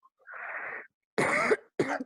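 Three coughs, close and loud, with brief silences between: a longer breathy one first, then two sharper bursts in quick succession.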